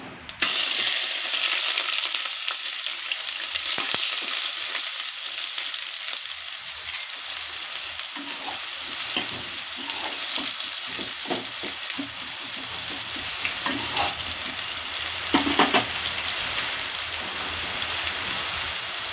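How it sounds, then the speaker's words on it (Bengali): Chopped onions crackle and sizzle in hot oil with nigella seeds, a dense continuous hiss with occasional sharper pops and stirring sounds, no voices. "পেঁয়াজ কুচোটা দিয়ে দিলাম"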